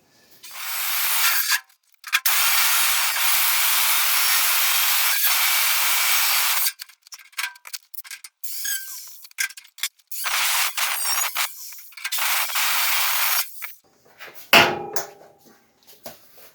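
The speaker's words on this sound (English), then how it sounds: "let's get a jigsaw on that then" A jigsaw cuts through the steel front wing arch of a Ford Escort MK1 during a restoration, a loud rasping buzz lasting several seconds, then shorter broken bursts and stops as the cut continues.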